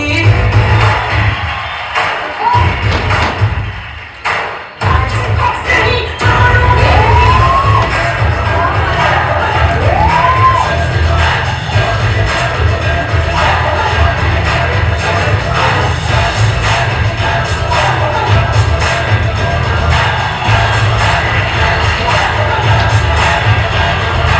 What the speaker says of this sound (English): Big round of applause for this little girl, everyone.